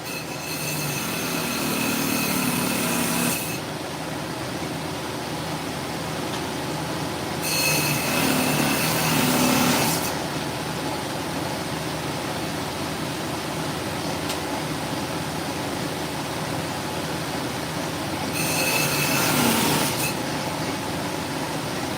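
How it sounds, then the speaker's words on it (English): A lapidary trim saw cuts a black opal nobby, sounding in three separate loud whining passes of a few seconds each over a steady hum of room noise, with no talk. "I'm gonna hit this on the trim saw to save a little grinding."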